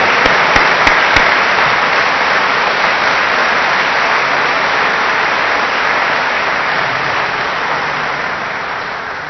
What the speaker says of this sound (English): A round of applause for this talented group of us